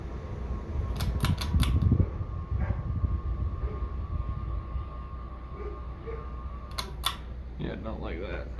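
A 52-inch GE-vent Bahama ceiling fan running on high speed, a steady whirring hum throughout, with a faint tonal drone, a few clicks, and brief quiet talking near the end.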